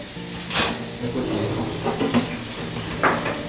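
Running water from a faucet splashing into a sink, with occasional dish clinks and rinsing bursts, close and steady.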